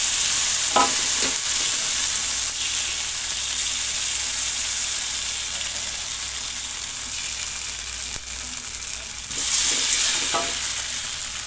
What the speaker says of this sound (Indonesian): saatnya kita akan menumis bumbu buat mie goreng itu ya